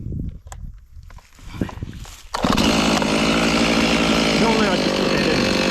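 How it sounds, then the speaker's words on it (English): A chainsaw fells a leaning tree: after a few seconds of scattered handling noises and footsteps, the saw roars up loud and close and runs steadily at full throttle. "I've got to bring my chainsaw around a little bit."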